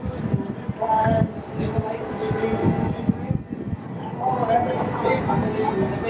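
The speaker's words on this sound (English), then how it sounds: "It's a regular train." A regular Santa Fe train rolls through a river canyon gorge, giving a steady, loud rumble of rail cars that runs the whole time, with people talking over it.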